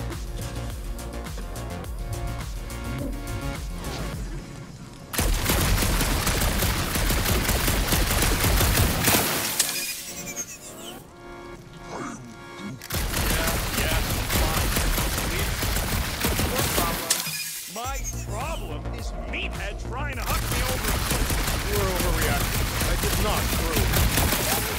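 Gunfire in the Guardians of the Galaxy video game crackles in dense, sustained bursts, mixed with game sounds and voices speaking over the shooting.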